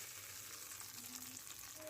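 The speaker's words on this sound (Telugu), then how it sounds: "ఇందులో ఇంకొక రెండు మూడు పచ్చిమిర్చిలు వేసి ఇందులో తాలింపు పెట్టుకున్నాను" Green chilies crackle and sizzle in hot oil for a tempering, a soft steady frying hiss heard close and fairly quiet with no voices.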